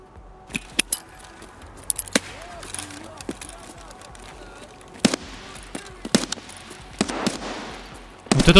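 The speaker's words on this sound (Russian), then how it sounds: "Вот это тоже чуваки, кстати, стреляют." Scattered gunshots from players firing in Escape from Tarkov ring out at a distance: sharp single cracks at irregular intervals, with a denser cluster near the end over a low ambient hum.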